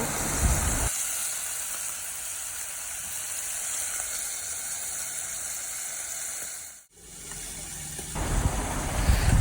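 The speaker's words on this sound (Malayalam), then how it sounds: "പിന്നെ അവിടെ മീൻ പൊരിക്കണുണ്ട്." Fish frying in a pan at home gives a steady, broadband sizzle and hiss that runs throughout at moderate level, with a brief dip near the end and no talk.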